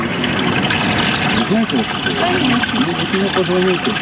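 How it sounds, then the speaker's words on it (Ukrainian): Dirty water pours steadily from a pipe into the Saksahan river, a constant loud rushing gush that fills the whole stretch, with a voice talking over it. "що з труби потрапляє брудна вода зі специфічним запахом"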